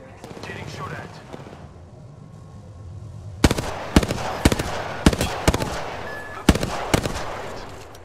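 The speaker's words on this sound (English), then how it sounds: "Getting shot at." Gunfire in the Apex Legends battle royale game: a sharp burst of rapid, loud shots cracking one after another in the second half, following a quieter stretch of game noise and movement.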